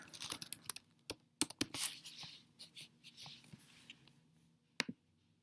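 Soft, uneven keyboard clicks tap out in short bursts on a computer, with a few sharper isolated keystrokes, faint and close against a quiet background hum.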